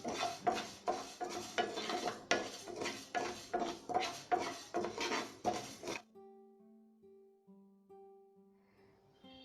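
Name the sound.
dry roasting cumin seeds in a pan for sambar powder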